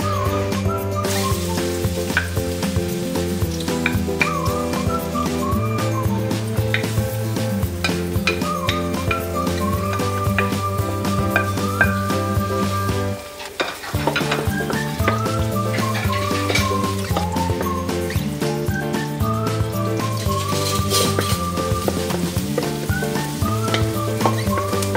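A pan sizzles steadily while ingredients are sautéed for ginulay na mais, a Filipino corn dish in coconut milk. The frying hiss runs continuously under background music, with a short dip partway through.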